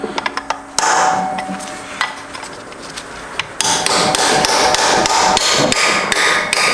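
A hammer drives a pointed chisel into a destroyed Subaru STI transmission during a teardown, first a few light taps, then a run of loud, evenly spaced metallic strikes ringing close by.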